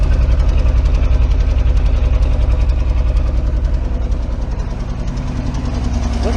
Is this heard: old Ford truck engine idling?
yes